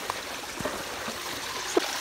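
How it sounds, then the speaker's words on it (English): A creek flows steadily through woodland at a campsite, producing a continuous soft rushing with a few small gurgles and a splash near the end, with no talking. "And there's a creek here too."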